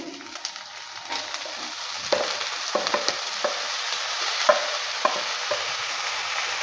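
Chopped banana flower being stir-fried in a pan for chorchori, with steady sizzling under a series of spatula scrapes and taps at an irregular pace, close up and with no talking.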